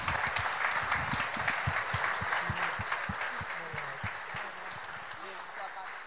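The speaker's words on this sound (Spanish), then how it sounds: "Un aplauso." Audience applause at a Som Energia school welcome event, a dense steady clapping from a crowd that holds throughout and eases slightly toward the end, with faint voices underneath.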